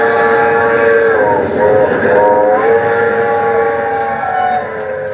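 A train sound effect plays in a stage production of The Diary of Anne Frank: a loud, sustained, multi-tone whistle over a steady rumble, lasting the full five seconds.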